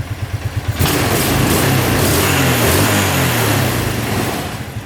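A cheap ATV engine settles back to a steady idle after a short rev at the start, its low, even chugging running close and loud the whole time with no talking.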